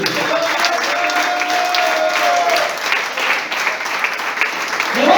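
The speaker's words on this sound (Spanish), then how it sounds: "Aplaudan, querido." A church congregation claps together in steady, continuous applause during a Spanish-language sermon, a dense wash of hands throughout with a faint voice briefly audible over it.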